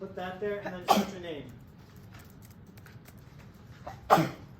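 Someone speaks briefly, then a sharp sudden sneeze bursts out, with a second similar burst a few seconds later against quiet room noise.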